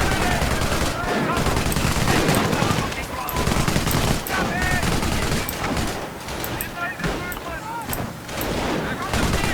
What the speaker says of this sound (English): An MG emplacement is an excellent defense against attacking infantry.